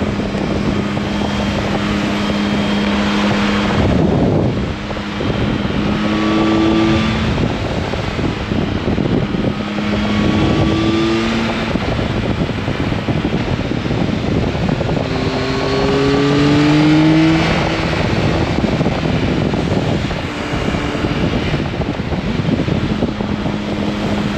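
A loud Yamaha Tracer 9 GT motorcycle engine drones steadily, with tones that rise and fall as it revs and picks up speed. No voices are heard.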